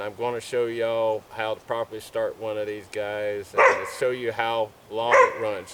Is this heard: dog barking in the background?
yes